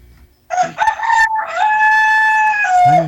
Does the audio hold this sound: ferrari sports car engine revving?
no